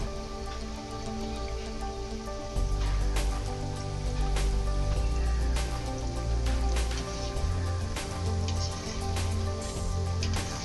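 Gulab jamun fry in oil over a medium flame, producing a dense, steady bubbling crackle like light rain, with tonal background music running beneath.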